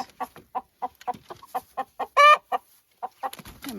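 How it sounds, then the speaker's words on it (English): Araucana roosters and chickens cluck in a steady run of short, close calls, with one louder, drawn-out squawk partway through and no talk over them. "That's one of the Araucana roosters. A very long tail, very skinny rooster."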